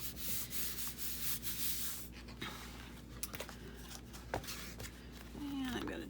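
Hand rubbing over a paper journal cover to press it down, a soft continuous scuffing and brushing close by, steady and fairly quiet with a few faint taps.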